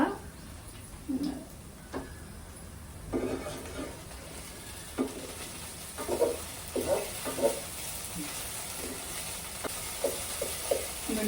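Onions fry in oil in a pan for an okra fry, a soft steady sizzle broken by repeated scraping stirs of a spatula at moderate level.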